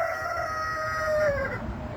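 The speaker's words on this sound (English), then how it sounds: "I don't know if you can hear the roosters" Roosters crow in a long drawn-out call that rises and then trails off. It sounds fairly near and clear, set against low, steady outdoor background noise.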